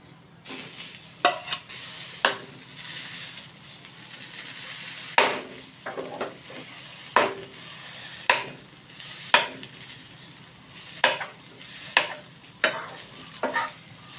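Homemade khoa, slightly firm from the fridge, is stirred into lightly roasted fresh coconut in a pan over low heat for puran poli filling: a soft sizzle under repeated sharp spoon scrapes and knocks against the pan at irregular intervals.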